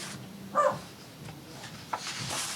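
A pet dog gives a couple of short, sharp barks indoors, at moderate distance, separated by quiet stretches.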